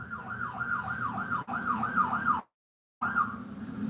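An ambulance siren wails in a fast, rising and falling cycle, loud and steady, arriving at an accident scene. It cuts out briefly partway through, then resumes.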